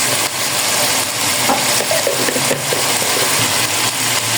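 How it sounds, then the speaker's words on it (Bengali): Onions and ground spices such as coriander sauté in a pan for biryani with a loud, steady sizzle. A broad frying hiss runs throughout, broken by a few soft stirring scrapes, and no one speaks. "এগুলো দিয়ে ভালো করে আমি কষিয়ে নিচ্ছি"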